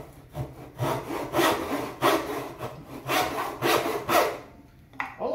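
A hand saw makes a shallow relief cut into wood beside a knife wall while a hand-cut pegging joint is made. About seven steady, rhythmic rasping strokes sound up close and clear, with no talking.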